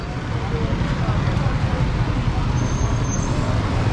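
Steady roadway traffic rumbles at a bus station in Pakistan, a continuous dense wash of engine noise with a faint high whistle near the end.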